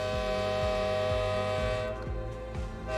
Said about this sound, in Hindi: दूर पहाड़ियों पर बीच से तेज सीटी की आवाज गूंजने लगी।